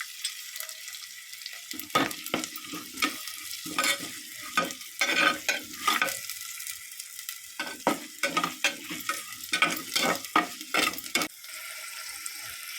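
Onion frying in hot oil in a pan, a bright crackling sizzle broken by repeated close scraping and stirring strokes in uneven bursts, with no voices.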